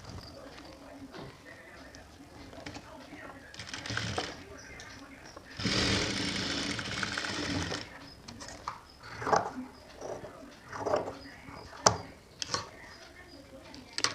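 A sewing machine joins pieces of a natural jute hand purse, running in one loud, steady burst of stitching midway through, with talk and handling noises before and after.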